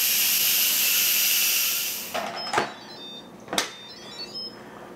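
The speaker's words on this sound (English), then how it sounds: "I'm going to do a release on the pot." An Instant Pot releases pressure after cooking Dutch split pea soup, giving a loud steady steam hiss that fades after about two seconds, followed by two sharp clacks and faint clicks.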